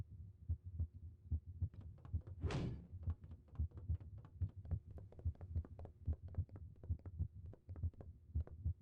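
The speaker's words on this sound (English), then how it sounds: "You definitely hear like a heartbeat." Steady heartbeat pumping in Psychonauts, a low, even double-thump rhythm repeating throughout beneath a hum, with one brief rushing whoosh near the start.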